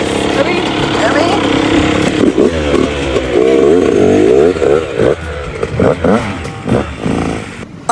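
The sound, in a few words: motorcycle engine revving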